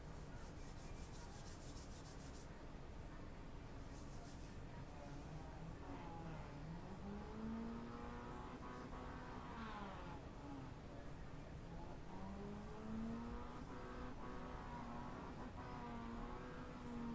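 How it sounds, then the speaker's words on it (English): A race car engine in the iRacing sim, a Mazda on the grid at Oulton before the start, revs up and down repeatedly in rising and falling sweeps, steady and prominent throughout with no talk. "Someone's deciding to blow their engine before the race even starts. Revving it like a boy racer."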